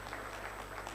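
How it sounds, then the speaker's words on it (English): Conference audience at an e-mobility event applauding, a brief, steady wash of clapping heard at a distance, fairly faint and even throughout. "I think we can give him another round of applause."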